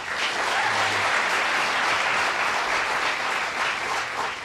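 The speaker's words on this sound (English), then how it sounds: "did you do that for the cheap applause?" A television talk-show audience breaks into sustained applause, a thick and even wash of clapping that holds steady the whole time.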